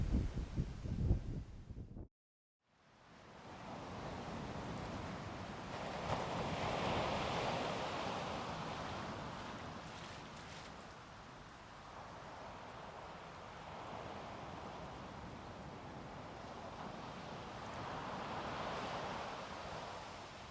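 Ocean waves at a beach rush and wash in a steady, broad roar after a brief cut near the start, with gentle swells in loudness and some wind noise on the microphone.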